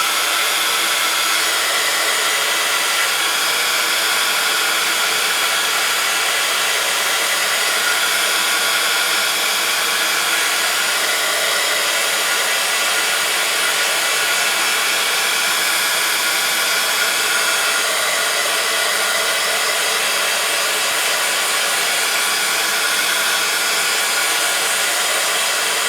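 Heat tool blowing steadily to dry a handmade card, a loud continuous whooshing roar that holds without a break for nearly half a minute, with no talk.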